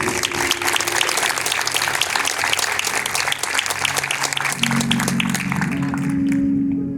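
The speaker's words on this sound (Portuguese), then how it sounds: "Aplauda Jesus." A church congregation applauds loudly and continuously for several seconds in a busy wash of hand claps, with a sustained tone underneath that thins out toward the end.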